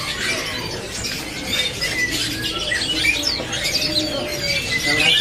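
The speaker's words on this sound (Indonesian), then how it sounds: "Ini yang dinamakan burung cicak cungko lokalnya Indonesia nih" A captive cucak cungkok, a local Indonesian songbird from the Sumatran forest, chirps and trills in bright repeated phrases over a steady background of other bird calls, moderately close and continuous throughout.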